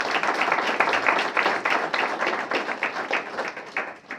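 Loud, sustained applause from an audience at a steelpan honorees ceremony in Toronto, dense clapping filling the whole stretch without pause before tapering slightly at the end.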